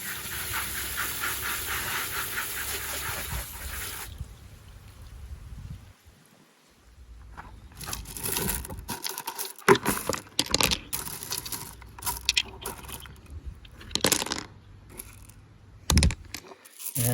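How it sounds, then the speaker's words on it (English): Tumbled rocks and ceramic beads rinsed with water in a bucket, giving a steady hissing pour for several seconds, then a run of clattering, splashing and knocking as the stones are stirred and strained. "rinse the rocks"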